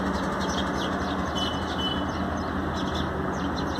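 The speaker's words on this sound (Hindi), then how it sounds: "देखिए गौरैयों की बहार मेरे छत पर।" Flock of house sparrows chirping on a rooftop, many small scattered tweets over a dense, steady background wash, fairly close and continuous without talk.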